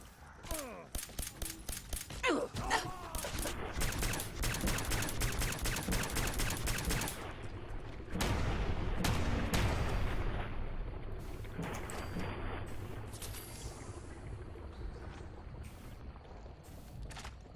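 Rapid gunfire bursts and heavy booming shots crackle continuously in Fallout 4's Far Harbor, aimed at Mirelurks, loud and dense, with a voice speaking briefly amid the shooting.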